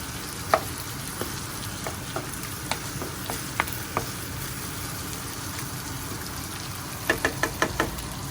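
Vegetables frying together in a pan, a constant soft sizzle broken by scattered spoon knocks and scrapes, then a quick burst of several clacks near the end, close up with no talking.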